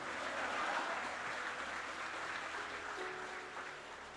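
A church congregation applauds during a Spanish-language sermon, giving a dense, sustained wash of clapping heard from within the hall that fades slightly toward the end.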